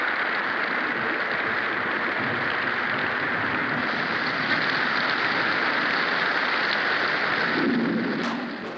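Steady heavy rain falls continuously at an outdoor spot in 1970s Indonesia, a dense broadband hiss with a brief low rumble near the end and no talking.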